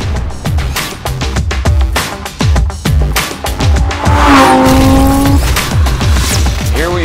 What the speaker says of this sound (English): Here we are on our Exotics Racing racetrack in Las Vegas in the brand new 610 horsepower Lamborghini Huracan.